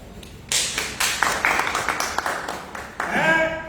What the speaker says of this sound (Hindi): इसलिए ताली तो बजाओ भाई